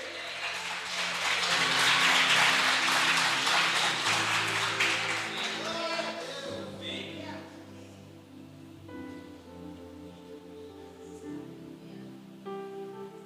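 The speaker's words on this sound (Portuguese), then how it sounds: "aplaude aí." A church audience claps together in a broad swell that peaks early and then fades, while organ or keyboard chords hold underneath.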